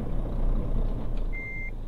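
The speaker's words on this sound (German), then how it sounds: "So, erstmal rückwärts fahren." A truck in Euro Truck Simulator 2, a Renault, reverses with a steady engine rumble throughout, and a single clear reversing beep sounds near the end, close and loud.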